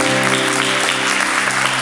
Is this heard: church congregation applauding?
yes